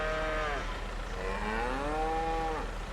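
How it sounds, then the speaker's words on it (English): Cows mooing on a farm, two long drawn-out moos close by over a steady low background hum. "Our cows are in."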